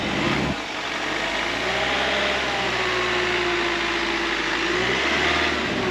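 A cold automatic camper van engine labours to pull away on flat ground, a steady loud drone with deep low rumble and a faint rising strain, continuous and close throughout.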